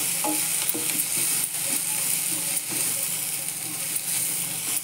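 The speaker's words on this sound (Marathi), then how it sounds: "हे छान असं सगळं परतून घ्यायचं." Cabbage, yellow, green and red capsicum and onion stir-fry in a hot pan, a steady sizzle broken by frequent spatula scrapes and tosses, close up with no speech.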